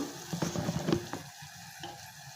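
Hot water hits a pan of fried rice mixture with a brief burst of bubbling and sizzling that quickly settles into a faint, low simmer, with nothing else heard over it.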